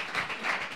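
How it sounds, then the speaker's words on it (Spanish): A studio audience applauds during a Spanish game show, a dense steady wash of many hands clapping together through the short moment, fairly loud with no voices over it. "Un aplauso, por favor, a esta pareja"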